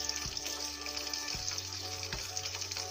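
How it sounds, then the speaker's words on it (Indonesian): Chicken katsu sizzles steadily in hot oil on a low flame, a dense, even frying hiss with a few faint clinks, close and continuous with no speech. "Saatnya kita menggoreng chicken katsu."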